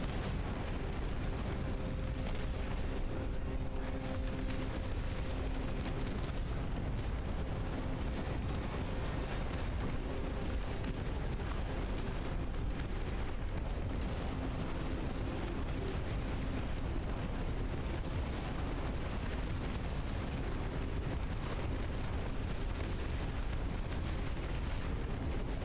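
A dense, unbroken barrage of artillery explosions rumbles through a Dust Front RTS battle, booms overlapping into a loud, continuous roar.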